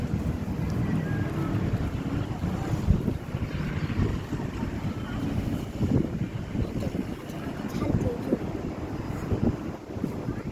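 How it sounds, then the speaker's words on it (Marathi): Wind gusting outdoors while people sit on a swing, a steady low rumbling roar buffeting the microphone throughout, with no clear creak of the swing itself. "वारा सुटलाय"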